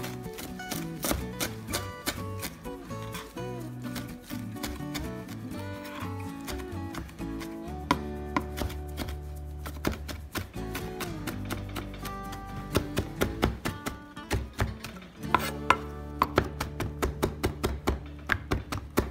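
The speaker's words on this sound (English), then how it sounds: "we're just gonna take our knife and then we're gonna chop them" A knife roughly chops herbs or garlic on a board for a one-pan spaghetti aglio e olio, giving quick, close tapping strikes that quicken near the end over a steady tonal background.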